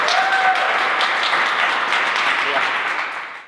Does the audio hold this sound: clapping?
yes